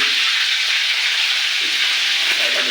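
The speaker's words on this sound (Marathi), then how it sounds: "कडी पत्तो ठेचलेला लसूण लसूण आणि कांदो चांगलं परतून घेऊया" Crushed garlic, curry leaves and onion sauté in a hot pan, giving a bright, steady, close-up sizzle that holds evenly throughout with no voices.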